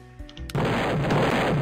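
A sudden loud blast erupts as a wall is destroyed in the Roblox game Lumber Tycoon 2, a sharp onset followed by a sustained roaring rumble, with quiet game tones before it.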